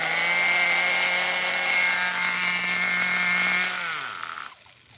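A nitro RC car engine drones at a steady high-pitched idle, loud and close, then winds down and dies near the end, with no talk over it.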